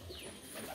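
Doves in a pigeon house give soft low cooing calls, faint and steady through a short moment with no voices.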